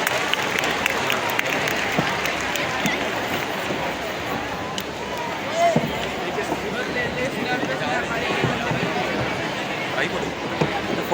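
A big stadium crowd at an Independence Day eve ceremony at Thyagaraj Stadium, Delhi, breaks into loud, sustained applause that carries steadily through the whole stretch, dense and unbroken, with faint voices mixed in.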